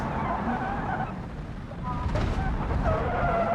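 A Fiat Egea in the BeamNG Drive video game brakes hard and skids, tires squealing over a steady engine drone, with someone talking throughout.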